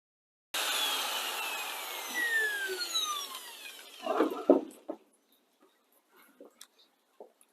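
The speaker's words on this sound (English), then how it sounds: "Maybe a little flappy disc." An angle grinder with a flap disc smooths rough bits off a fresh gasless weld repair, a loud steady abrasive whine lasting about three and a half seconds, then rough scraping bursts and a few scattered clunks.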